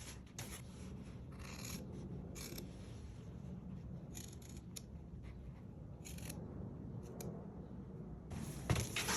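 Scissors snip into the four corners of a fabric welt pocket opening, a few quiet, soft cuts spaced apart, heard alone with no talking.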